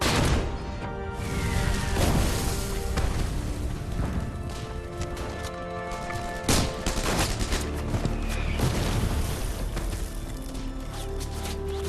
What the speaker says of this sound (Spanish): Los certeros disparos obligan a los soldados alemanes de la división de montaña a refugiarse